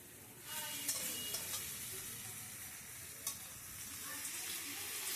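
Garlic and spices stirred in hot oil for a katla fish curry, a steady soft sizzle with a few brief scraping stirs, moderately faint and with no talk.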